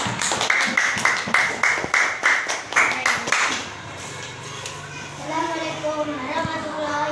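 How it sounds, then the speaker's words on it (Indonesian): A classroom group claps for a student presenter in a quick, rhythmic burst of hand claps, close and fairly loud, lasting a few seconds before it fades and speaking voices take over. "Tepuk tangan buat Rasa."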